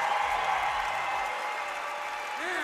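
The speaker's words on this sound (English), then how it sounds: "Give a big round of applause to Kyle Douglas" Steady, dense applause from the audience at the Vegas Shoot archery championship shootdowns, sustained and evenly loud throughout, with a little talk faintly mixed in.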